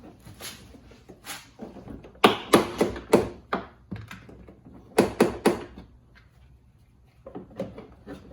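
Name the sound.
pulling off a 2011-2019 Jetta front door panel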